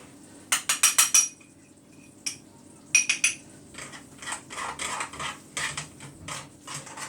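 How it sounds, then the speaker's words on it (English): A spoon tapped against the rim of a pan or bowl to knock off spices while making shakshuka: quick clusters of light metallic clinks, a rapid burst of about five taps, a few isolated knocks, then a steadier run of taps, close and fairly clear. "It's getting this extra spice off the spoon because I don't want to waste any spices"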